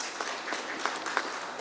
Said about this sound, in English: I would like you to please clap for yourself for all the great work you guys are doing